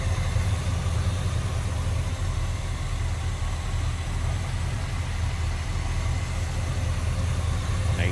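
A 1979 Chevrolet Camaro Z28 with its original numbers-matching 350 V8 idles smoothly and steadily, a deep, even rumble that stays constant and close throughout with no revving.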